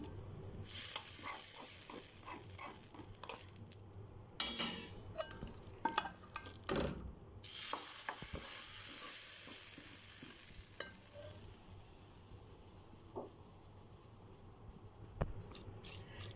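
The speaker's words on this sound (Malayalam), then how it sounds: "ഇത് നമുക്കൊന്ന് പെട്ടെന്നൊന്ന് നമ്മുടെ ഈ കായലേക്കൊന്ന് ഇളക്കി കൊടുക്കാം" Raw banana thoran, Kerala style, stirred in a pan, giving intermittent scraping and clinking of a spoon against the pan over a soft sizzle, with bursts of stirring separated by quieter moments.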